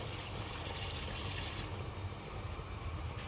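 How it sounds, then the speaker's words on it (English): Water pours steadily into a cooking pot for mutton kabsa, about two cups, with a broad rushing splash that changes tone partway through, continuous for a few seconds with no talking. "So I'm going to add another 2 cups of water."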